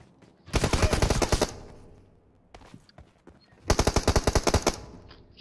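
Automatic gunfire in the video game PUBG Mobile rattles out in two loud, dense bursts, each over a second long, separated by a quieter gap with a few scattered thuds.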